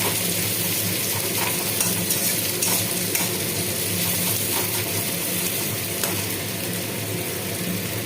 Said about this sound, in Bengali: পেঁয়াজটা একটু ভাজা হয়ে যাক।